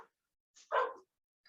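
One short, sharp dog bark pops out of silence, preceded by a faint yip, with a tiny sound at the very end.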